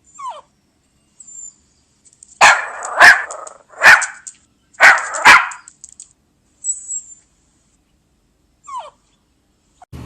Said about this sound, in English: that was Pomeranian dog